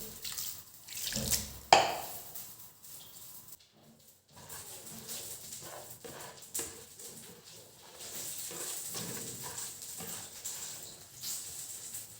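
Water is poured into a cooking pot while making Algerian couscous, with a short loud gush early on, then quieter running and dripping water and faint kitchen sounds.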